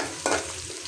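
Onions sizzle in a pan as they are browned, with a short burst of stirring partway through the brief, close frying sound.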